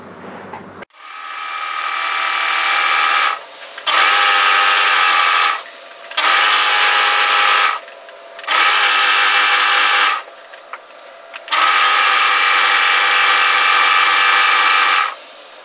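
An overlocker serger tidying the raw end edge of a robe garment runs in five bursts of steady, buzzing whir. The first burst ramps up, and brief quiet pauses separate the runs.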